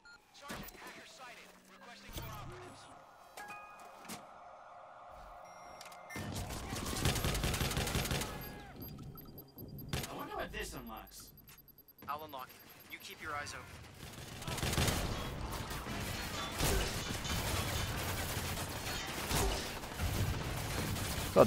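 Shotgun and other gunfire in the video game Watch Dogs 2, with bursts of loud blasts, mechanical clatter and game effects, and a voice talking over parts of it.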